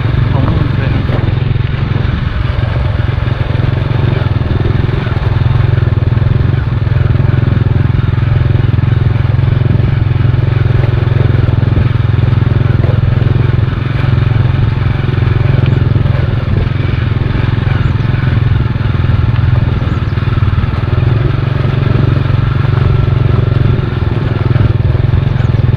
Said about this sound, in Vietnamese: Đi xe máy mất 5 phút rồi.